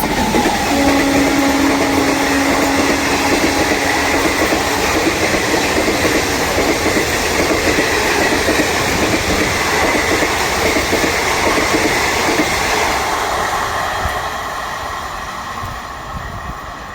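A Hazarduari Express train races through a station, a loud sustained roar of wheels and carriages with a brief horn note near the start, fading slightly toward the end.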